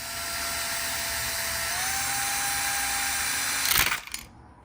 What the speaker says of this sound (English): As I was drilling the hole for my wiring